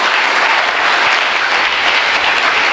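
Steady applause from a church congregation during a sermon, a dense wash of clapping that stays loud and even throughout with no pauses.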